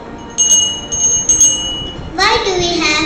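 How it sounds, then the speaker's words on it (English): Small hand bell in a Christmas carol skit, a few bright rings in short bursts, followed by a louder clatter of jingling bells near the end. "Why do we have bells? Well, bells are used to give messages."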